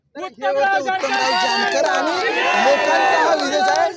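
A dense crowd of supporters celebrating an election victory in Velapur, a loud continuous roar of cheering, shouting and chatter that runs unbroken from start to finish.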